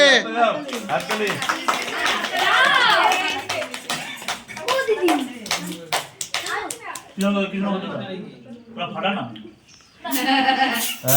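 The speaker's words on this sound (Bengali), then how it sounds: "হাততালি।" People clap together at an anniversary celebration, a dense burst of rapid hand claps mixed with voices and laughter, close and lively, thinning out near the end before a final flurry.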